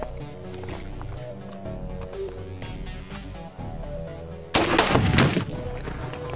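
An AK-47 rifle fires a loud, sharp volley of shots late in the clip, breaking through steady background music.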